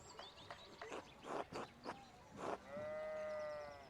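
Sheep bleat in the video game Pentiment, several short wavering calls in quick succession followed by one longer, steady drawn-out bleat, fairly close and clear with no talking.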